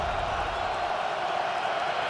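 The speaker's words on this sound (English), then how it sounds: "Crowd roaring, 2nd and 10." Steady roar of a large football stadium crowd at a Saints at Eagles 2013 NFC Wild Card game, a continuous broad wash of distant voices holding at an even level throughout with no distinct cheers.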